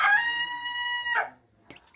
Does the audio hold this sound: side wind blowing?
no